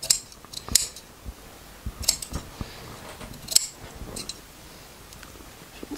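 Scissors snip through upholstery fabric around the rails of a Victorian chair, a series of sharp, close clicks and cuts in an irregular rhythm, with soft handling noise between them and no talking.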